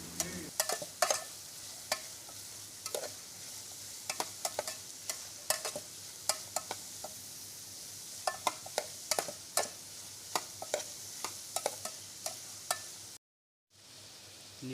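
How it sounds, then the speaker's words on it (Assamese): Onions frying in a pan until brown, a soft continuous sizzle punctuated by frequent sharp scrapes and clicks of a spatula stirring. The sound is fairly quiet, then cuts out briefly near the end. "এতিয়া পিঁয়াজখিনি ব্ৰাউন কালাৰ অহালৈকে অলপ ভাজিম।"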